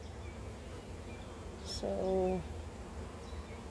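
Honeybees around an open beehive during a hive inspection: a brief, close buzz swells up midway over a steady low outdoor hum, with a short spoken word nearby.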